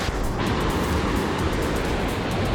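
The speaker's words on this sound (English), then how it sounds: "Wow, that river is loud." Loud rushing water roars continuously, a broad churning wash like a fast river close by, with no talking.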